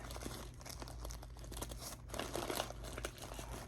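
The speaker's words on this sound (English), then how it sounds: "is not cutting the yarn inside when you try to open the bag" A plastic mailer bag holding hand-dyed yarn is torn and crinkled open, giving steady close-up rustling and crackling with a louder burst of crinkles partway through.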